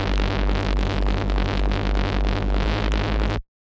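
Serum synth saw-wave reese bass with distortion, a thick, buzzing sustained bass note that throbs rhythmically and fills the whole range with gritty harmonics, loud and alone before cutting off abruptly near the end.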